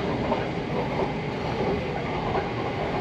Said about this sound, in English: we're here, we're on the train